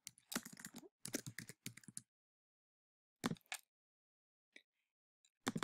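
Typing on a computer keyboard in quick clustered bursts of clicky keystrokes, close and clear, separated by silent pauses with a final burst at the end.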